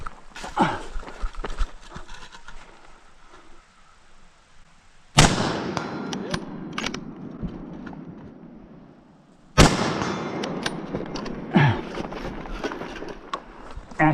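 Live-fire gunshots during a two-gun practical shooting match: sharp, loud reports in quick bursts, with two especially heavy blasts standing out among rapid cracks and brief quieter gaps between strings.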